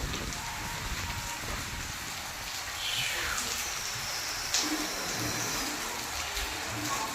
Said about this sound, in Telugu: చూడండి ఎలా పడుతుంది వర్షం